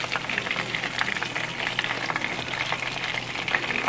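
Steady, dense sizzling and crackling of chicken thighs frying in hot oil, close up, with continuous spitting pops throughout.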